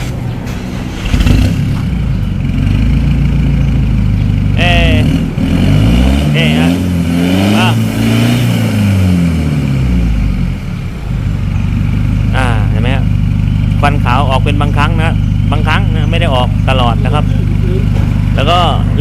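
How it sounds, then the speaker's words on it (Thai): A Chevrolet Colorado pickup with a fault, blowing white smoke and knocking, runs loud and close with a rough, uneven idle and a few rising revs while someone talks over it. "วันนี้สตาร์ทขึ้นมานะครับมี ควันขาวบางครั้งเครื่องยนต์ สะดุดสันนะครับ แล้วก็เคกด้วย"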